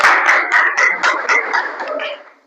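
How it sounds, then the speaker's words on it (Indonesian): Classroom applause after a lesson in an Indonesian Islamic teacher-training session, a short burst of rapid hand claps from a small group, close and fairly loud, fading out within a couple of seconds. "Tepuk tangan"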